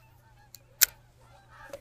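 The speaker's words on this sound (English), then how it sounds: "Those are geese, but flying ducks." Geese in flight give a few faint honks, brief and distant, over a quiet outdoor background near a fishing spot.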